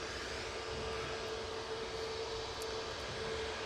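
Jet2 airliner lined up on runway 23 left at Manchester Airport, a steady, broad jet engine roar with a faint tonal whine, heard from a distance with no voices.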